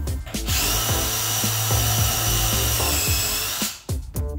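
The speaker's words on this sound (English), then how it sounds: "Drilling an oversized hole through the actual bulkhead so that the screw grabs onto the substrate behind it nice and tight." A power drill bores an oversized hole through a wall bulkhead into the substrate behind, a loud sustained whirring grind with brief starts and a drop-off near the end, no talking.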